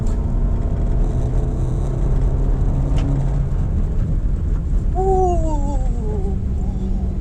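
A 2023 Suzuki Dzire is driven in first gear up a climb in traffic, its engine giving a steady, fairly quiet low rumble throughout, with a voice rising briefly over it near the end.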